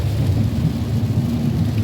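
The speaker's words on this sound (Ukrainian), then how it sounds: "Сьогодні небо дуже-дуже похмуре дощ є як із відра." Heavy rain pours under a gloomy sky, a dense, loud low rumble that goes on without a break, with no one speaking.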